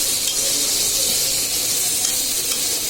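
Broiler chicken meat frying in a pan, a loud steady hissing sizzle with stirring, close and continuous without talk.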